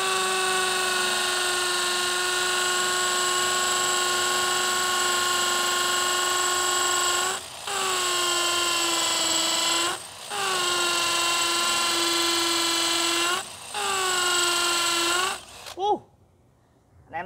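A Bosch GSB 185-LI cordless drill runs in long, steady loud whines, cutting out briefly three times and winding down near the end before stopping.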